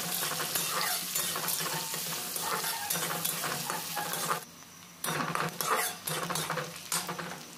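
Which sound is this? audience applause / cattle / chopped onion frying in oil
chopped onion frying in oil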